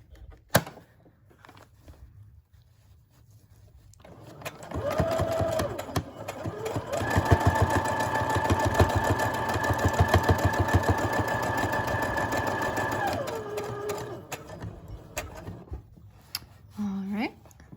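A sewing machine runs steadily for several seconds, stitching over a fabric face mask after the presser foot is lifted and the work rotated, with a continuous close, mechanical whir that starts and stops cleanly.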